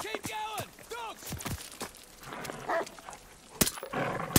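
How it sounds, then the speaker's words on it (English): Dogs barking and snarling as they attack in the Call of Duty: Vanguard video game, sharp loud barks mixed with shouting voices, gunfire and battle noise. "Dogs!"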